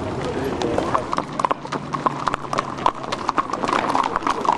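Horse hooves clip-clop in a quick, uneven rhythm during a cattle drive on the Del Mar racetrack at the San Diego County Fair, close and continuous, with people talking over them.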